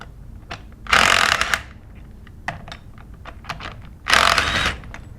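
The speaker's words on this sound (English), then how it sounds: "we're going to use a 3/8 inch electric impact gun" A 3/8 inch electric impact gun loosens the bolts on the discharge manifold of an S15/S20 non-metallic air-operated double-diaphragm pump, giving two loud bursts about three seconds apart with light clicks and handling noises between.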